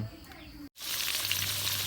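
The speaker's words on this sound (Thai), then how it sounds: "จากนั้นจะเอามาทอดแบบนี้นะครับ" Pork skin hits hot frying oil and breaks into a loud, steady, close sizzle that fills the rest of the moment after a brief silence.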